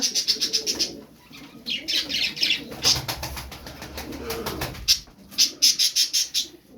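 Pigeons at a bird market coo and chirp while flapping wings beat in rapid bursts, moderately close, without talk.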